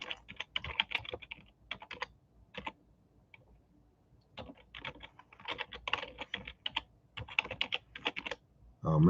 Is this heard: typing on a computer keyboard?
yes